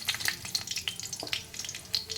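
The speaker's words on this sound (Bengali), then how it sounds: "ফোড়নটা কয়েক সেকেন্ড ভাজা হবে।" Black cumin seeds and a dried red chilli crackle and spit in hot oil as a tempering, with a busy stream of close, sharp pops and sizzles.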